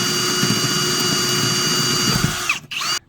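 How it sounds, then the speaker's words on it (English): A power drill bores through a house wall while mounting a Ring Spotlight Cam, a close, steady high whine that holds for over two seconds, then cuts out briefly and revs once more before stopping. "drill through the wall to go all the way inside"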